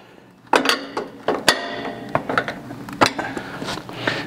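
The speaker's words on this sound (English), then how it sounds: "We just tighten our stop nut up." Metal clinks and taps while a stop nut is tightened on a Yield Saver spring during a 360 Yield Saver installation, a series of close, sharp knocks at irregular intervals.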